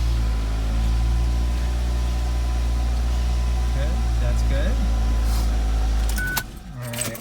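A 2000-2007 Ford Focus engine idles with a steady low rumble and hum close by, then quiets near the end amid a few clicks and rattles while someone briefly speaks.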